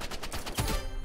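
Gunfire in the Roblox first-person shooter Rivals: a quick run of repeated shots in a steady burst, fairly close and loud, with no voices over it.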